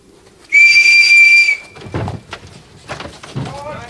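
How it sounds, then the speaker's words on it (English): A single loud, shrill whistle blast lasting about a second, followed by thumps and people talking nearby, at a Camel Trophy Land Rover event in Tanzania. "I'm just going to blow my whistle"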